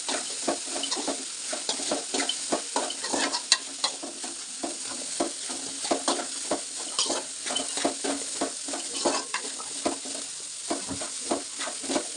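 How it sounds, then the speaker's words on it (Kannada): A spoon scrapes and stirs fried horse gram with grated coconut in a hot pan, a steady close sizzle broken by rhythmic scraping strokes, with no talking. "ಇದನ್ನು ಈಗ ಚೆನ್ನಾಗಿ ಮಿಕ್ಸ್ ಮಾಡ್ಕೊಳ್ಳೋಣ."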